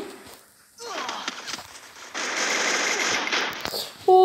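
An MP40 submachine gun fires in sustained rapid automatic bursts in the Free Fire video game, loud and near, with brief gaps between volleys and a voice speaking early on.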